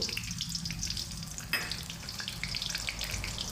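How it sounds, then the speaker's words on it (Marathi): Cumin seeds and whole spices dropped into hot oil for hotel-style paneer lababdar, giving a steady, close crackling sizzle that carries on without a break and has no talk over it. "तेल गरम झाल्यानंतर याच्यात थोडे मी जिरे घालतो थोडा खडा मसाला आहे तो घालतो"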